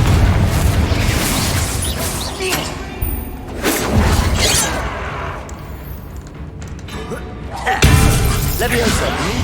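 A Confringo spell explodes in the Hogwarts Legacy video game, sounding as loud bursting blasts and shattering crashes mixed with game voices and combat noise.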